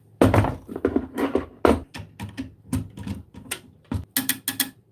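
Torque screwdriver tightening a terminal screw on a circuit breaker in an electric panel, a close series of irregular mechanical clicks and ratcheting ticks with small knocks, no talk.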